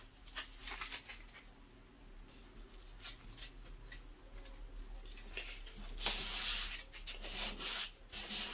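Sandpaper rubbing back and forth over thin wire, a quiet, steady scratchy friction with repeated strokes and slightly stronger passes toward the end, close up with no talking.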